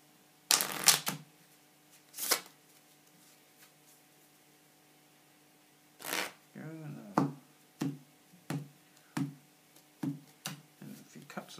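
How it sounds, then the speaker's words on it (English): A deck of playing cards is shuffled in several quick riffling bursts, then a series of short, crisp snaps as the cards are cut and squared, close and fairly quiet with pauses between. "First, I'm going to give the cards a bit of a shuffle."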